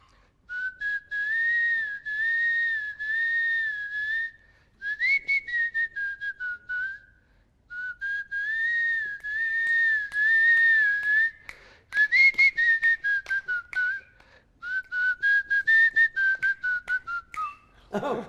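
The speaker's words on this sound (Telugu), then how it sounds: "చిన్ని పాట విజిల్ లో ఫుల్ గా పాడదామని మేము ఏదో ప్లాన్ చేస్తున్నాం" A man whistles a film song tune in clear, sustained melodic phrases, close and loud, with short pauses between lines and a rapid staccato run in the middle.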